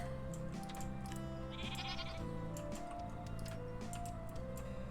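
Game sounds with a faint bleat over a busy, layered mix of tones and ticking clicks; the animal call sits low in the mix.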